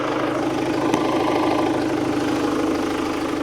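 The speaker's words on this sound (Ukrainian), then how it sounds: "Так виглядає мотор, мотор працює добре." A bus engine idles steadily up close, an even mechanical hum and low throb that stays constant throughout.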